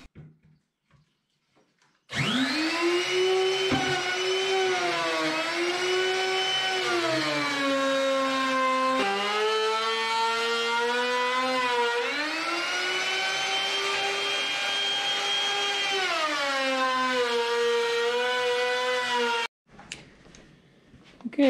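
A router cuts galley openings in a teardrop camper build, guided along strips of 1x material, running loud and steady for most of the clip with a whining tone that dips and rises as it bites, then stops abruptly.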